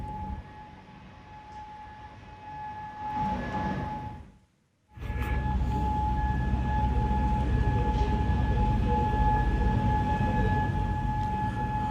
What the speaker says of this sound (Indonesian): Raungan sirene yang menggema di Kuwait ini, saudara, jadi tanda peringatan bahaya serangan udara atau ancaman militer.